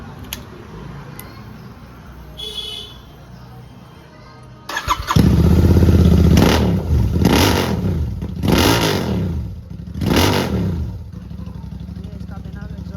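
After a quiet stretch with some talking, a motorcycle engine with its exhaust removed fires up and then revs loudly and rawly in several rising surges, close to the microphone.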